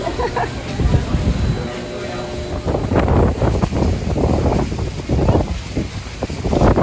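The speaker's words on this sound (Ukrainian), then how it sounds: "Ой, тут такий вітер сильний." Strong wind at Niagara Falls buffets the microphone in a steady low roar, with gusts swelling throughout while a person talks over it.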